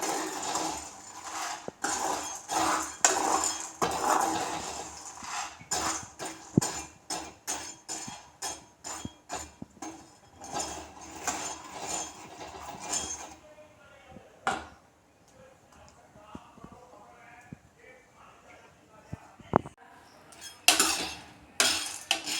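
A metal ladle scrapes and clatters against a pan while chickpeas roast in salt. A rapid, rhythmic rattle runs for about thirteen seconds, then gives way to quieter, scattered clinks and sharp knocks.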